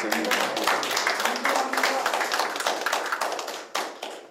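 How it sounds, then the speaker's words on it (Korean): An audience at a Seoul education policy debate forum claps for a city council member, a brisk run of individual hand claps from a modest crowd, close and fairly loud, slowing and thinning out toward the end. "좀 큰 박수 좀 보내주시죠"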